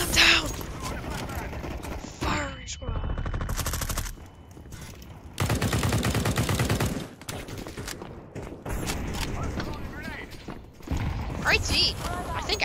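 Gunfire in the video game Counter-Strike 2 comes in several bursts of rapid automatic fire and clicking weapon mechanisms, broken by pauses, with a person talking over parts of it.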